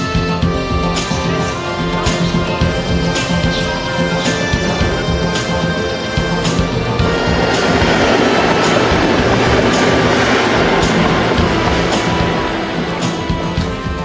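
A train travels on rails toward Amsterdam, its wheels giving a steady rhythmic clickety-clack over a continuous rumble and hiss that grows rougher and louder partway through, close and unbroken, with no voices.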